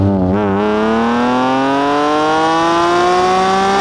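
A modified 2006 BMW Z4 M Roadster with a naturally aspirated 3.2 litre engine revs up in one loud, close, steadily climbing pull after a short blip at the start.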